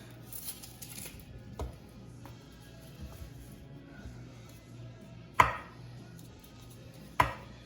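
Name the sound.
knife slicing yellow onion along the grain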